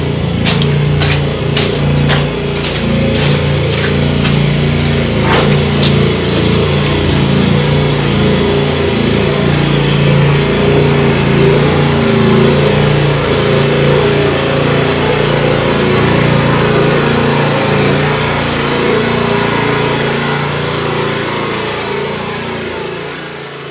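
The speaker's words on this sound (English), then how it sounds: "This little generator that we used to run the main lights down the tunnel" A small generator powering lights runs steadily inside a mine tunnel, a loud continuous engine drone with a few sharp knocking taps near the start, filling the whole stretch before easing slightly at the end.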